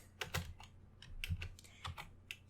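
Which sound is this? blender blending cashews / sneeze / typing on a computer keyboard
typing on a computer keyboard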